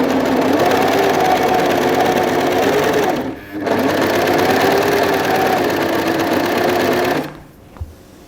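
An overlock sewing machine runs at a steady, loud, close whir, briefly pausing once before resuming, then stopping near the end with a small click; no speech.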